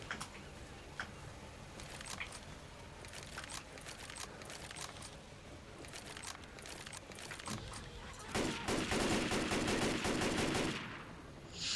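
Gunfire in the zombie shooter Left 4 Dead 2: rapid automatic bursts crackle over a busy, noisy battle, building into a dense, sustained volley toward the end.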